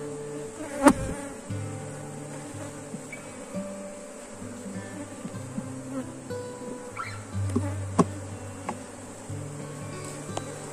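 Honeybees buzzing around an open hive during a colony split: a steady, close droning hum with individual bees passing near, plus a few light knocks and clicks of frames being handled.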